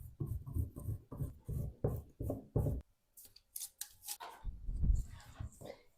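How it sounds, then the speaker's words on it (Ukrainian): Repeated rhythmic scraping strokes of frozen butter grated on a coarse grater, close and steady, followed by softer rustling and a quiet voice. "І потрібно його натерти на велику терку, поєднати із борошном."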